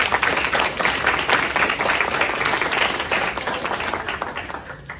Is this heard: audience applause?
yes